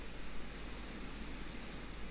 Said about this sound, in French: Est-ce que tu peux entendre le bruit blanc, le son du silence?